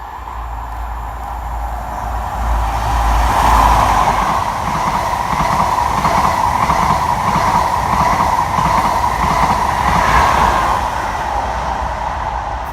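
A Class 43 HST with power cars 43312 and 43316 on a fast Inverness to London King's Cross service passes close by at speed, a loud steady rush of engine drone and wheel noise swelling and holding throughout.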